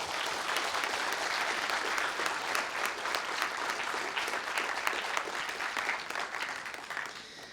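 Audience applause at a French public speaking competition, a dense, steady wash of many hands clapping that holds evenly for several seconds and tapers slightly at the end, with no voices over it.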